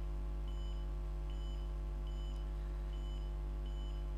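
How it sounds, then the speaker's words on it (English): Electronic beeps from an Arduino heart pulse sensor with a small speaker, sounding about five short, evenly spaced tones over a steady low hum, each tone roughly in time with a heartbeat. "So we get the pleasing beep sound."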